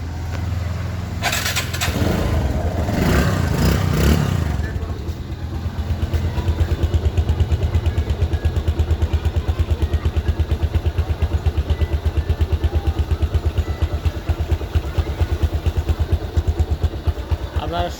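A Bajaj Discover 135 motorcycle engine idles nearby with a steady, even thumping putter, following a few seconds of revving and clatter at the start.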